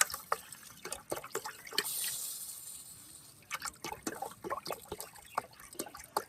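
Water splashes and pours into a pot in several uneven bursts, with drips and short pauses between them, while cooking misal.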